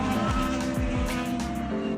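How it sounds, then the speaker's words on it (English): INDYCAR race cars scream past at the track, loud overlapping high-revving engines with rapid Doppler pitch drops as each car passes close by. "Listen to those engines, that's just amazing."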